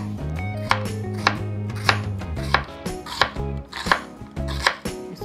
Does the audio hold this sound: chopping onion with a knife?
yes